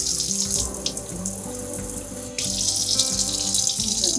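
Water runs from a newly installed kitchen faucet into the sink in a steady, close splashing stream. It briefly dips, then resumes slightly stronger.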